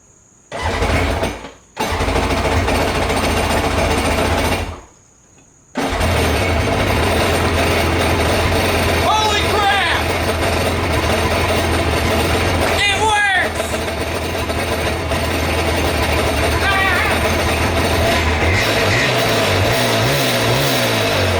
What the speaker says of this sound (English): Gonna put the spark plugs in, roll it outside, and let's try and fire it up